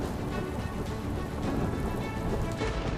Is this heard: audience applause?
no